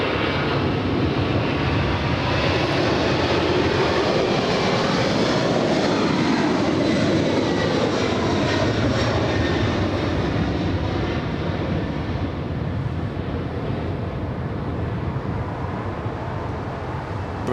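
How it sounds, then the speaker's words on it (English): A Boeing 747 with CF6 engines takes off at LAX, its loud, screaming jet roar sustained and close throughout, with no talking. "We love the CF6 screaming engines taking off"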